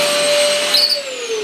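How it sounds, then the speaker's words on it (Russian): A household vacuum cleaner runs with a steady high whine and airy hiss, its pitch dipping slightly near the end, loud and close. "Прошлась пылесосом."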